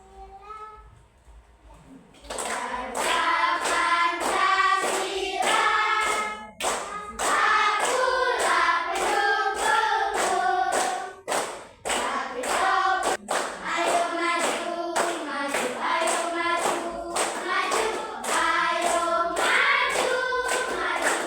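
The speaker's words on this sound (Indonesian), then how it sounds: "Kita menyanyikan lagu Garuda Pancasila sambil tepuk tangan" Children sing the Garuda Pancasila song while clapping along in a steady rhythmic beat, the voices loud and continuous after a quiet start.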